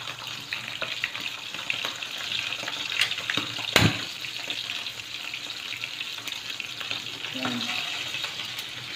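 Dried fish such as bulad or danggit frying in a home kitchen pan, a steady close sizzle and crackle running throughout with a sharp clatter near the middle, while someone speaks briefly over it.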